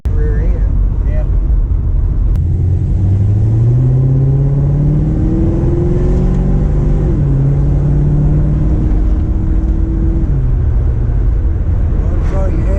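An LS-swapped Chevy Nova with a 308 rear end drives along back roads in second gear, its loud engine droning steadily and rising in pitch as it pulls, with a constant close-up rumble.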